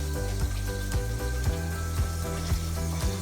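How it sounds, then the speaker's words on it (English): Chicken sizzles steadily as it fries in a hot pan, a constant crackling hiss with a faint repeating clatter underneath. "we are frying the chicken"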